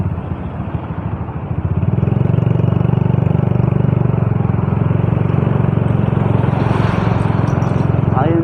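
A vehicle engine runs during a chill ride along a familiar route in the wet season, quiet at first and then rising into a loud, steady, throbbing drone that holds to the end.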